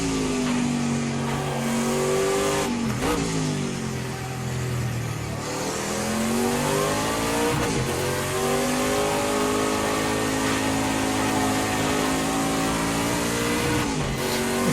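Nissan prototype race cars in Project CARS 2 howl continuously at high revs, engine pitch climbing and dropping through repeated gear changes, loud and close with other cars alongside.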